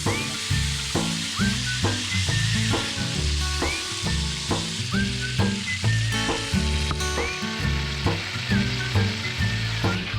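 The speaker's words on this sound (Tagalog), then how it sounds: "Pag nagigisa ako, yung bawang ko ganito lang ginagawa ko." Garlic sautéing in a pan as the base for pinakbet gives a loud, continuous sizzle for the whole stretch, with a rhythmic, music-like pulse running underneath.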